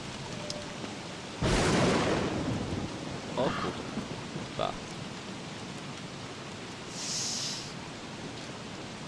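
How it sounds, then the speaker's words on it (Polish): Thunderstorm with rain in the survival game Don't Starve: a loud thunder crack rolls out over steady rain hiss, with a few softer rumbles later, and a man swears briefly at the start. "Nie lubię burz. Ani w realu, ani w tej grze."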